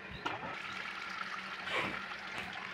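A steady, close rush of dirty water gushing and draining out during a filter backwash at a mineral water refilling station, continuous and hissing with no pauses.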